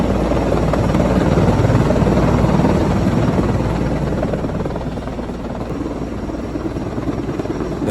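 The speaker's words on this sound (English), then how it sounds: "The helicopter was lifting a heavy load when it suddenly crashed in the middle of the road." A helicopter lifting a heavy load gives a loud, continuous rotor drone that holds steady, then eases slightly and swells again, with no voices over it.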